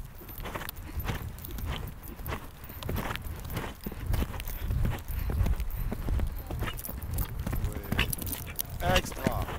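A horse's hooves pound the ground in a quick, steady gallop close by, with a voice talking over the hoofbeats during riding instruction.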